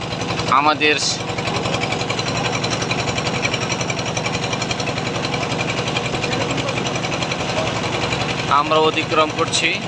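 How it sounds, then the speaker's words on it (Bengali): A trawler boat's engine chugs on the Meghna River, a loud, steady rapid knocking throughout, with brief spoken commentary over it near the start and end. "এই যে আমাদের ট্রলারের পাশ দিয়ে আরেকটি নৌযান এগিয়ে আসছে, আমরা অতিক্রম করছি।"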